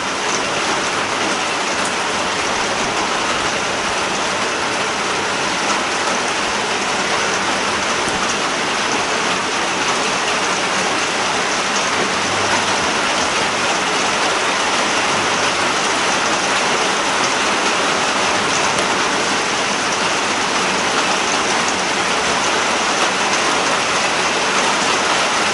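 Steady heavy rain drums on a shed roof over a farm, a dense continuous hiss that stays loud and even throughout with no voices.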